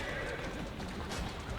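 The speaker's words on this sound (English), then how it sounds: "Can you shoot that horse?" A horse whinnies in Assassin's Creed Syndicate, a fairly faint neigh with hoof clip-clops under a dense mix of street ambience and game noise, with a voice in the background.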